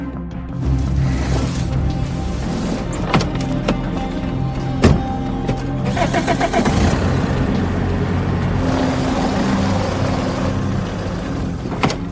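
A car drives in an action film scene, its engine humming steadily under a dense movie soundtrack with scattered sharp impacts and clicks throughout, fairly loud and continuous, with no speech.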